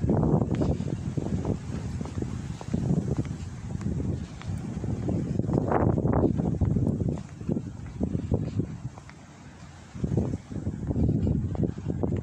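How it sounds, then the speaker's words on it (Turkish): Strong wind buffets the microphone at the seaside in Turgutreis, Bodrum, a loud continuous roar with gusty surges and brief lulls, no voices heard. "Esiyor çok."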